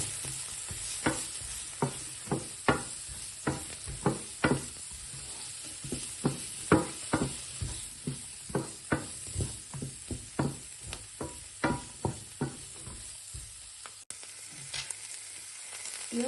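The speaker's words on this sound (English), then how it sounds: "Let's mix it well." A spoon stirs broccoli soup seasoned with paprika, pepper and salt in a pot, knocking against the sides in a steady, rhythmic series of close taps over a low simmering sizzle before stopping near the end.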